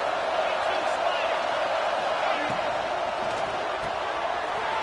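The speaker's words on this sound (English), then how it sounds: "Fans are bringing the noise on 1st and goal." A college football stadium crowd for Vanderbilt at Georgia roars on first and goal, a dense, steady wash of crowd noise with a commentator talking over it.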